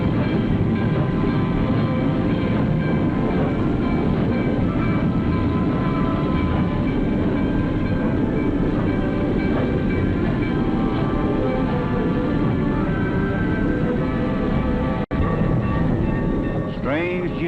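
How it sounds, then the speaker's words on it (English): Steady rumble of New Haven Railroad trains rolling through a yard, with continuous clattering wheels and a low mechanical drone that stays loud and close throughout. "hundreds of passenger trains are made up every day, in addition to hundreds of freight trains"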